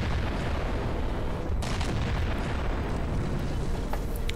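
A large explosion in Halo 4 gameplay, a loud roaring blast with a sharp burst partway through and rumbling debris that sustains throughout.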